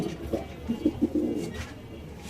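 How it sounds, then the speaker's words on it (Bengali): A racer pigeon coos softly at a pigeon market, a few low throaty notes over a steady background murmur. "এই যে রেসার কবুতরটা"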